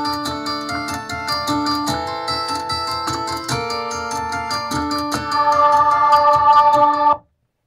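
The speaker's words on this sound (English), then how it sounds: "Bit of cembalo, a bit of Meltron Boys Choir." Cutesy music track layering plucked cembalo (harpsichord) with a Mellotron boys choir, playing steady melodic phrases that swell slightly louder near the end before stopping abruptly.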